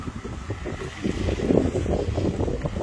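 Wind blows hard against the microphone in a continuous low rumble, gusting and buffeting throughout.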